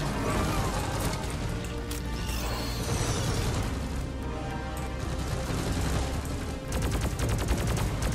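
Dense, loud gunfire from the video game Deep Rock Galactic, rapid continuous bursts of automatic weapon shots with crashes and mechanical clatter throughout, a fast steady stream of shots near the end.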